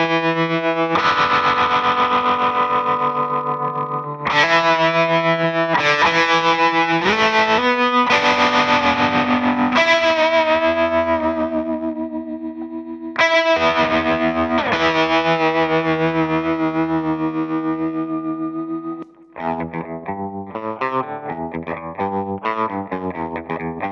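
An electric guitar played through a pedalboard of effects, including distortion and plate reverb, rings out in loud sustained chords and notes with washy echo tails, pausing briefly before sharper choppy phrases near the end.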